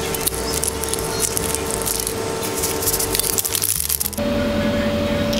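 Dense, crackly crunching with sharp brittle snaps, loud and close, of chewing crispy Indomie Chitato-flavored snack noodles; it stops abruptly near the end, leaving a steady hum.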